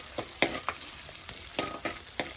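Green chilies, slit at the tips, sauté in a hot pan, giving a soft steady sizzle broken by several sharp scraping stirs at irregular intervals.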